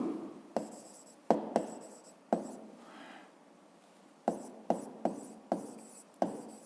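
A pen writes on paper while a physics graph exercise is worked out, producing a series of short scratchy strokes with sharp onsets and brief pauses between them, close and fairly quiet, with no talking.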